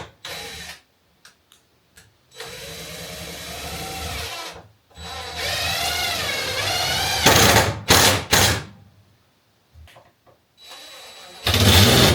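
A power drill drives screws into a split 2x6 wall stud at an off-grid cabin, with several whirring bursts rising in pitch as each screw seats, separated by pauses and short clicks and knocks.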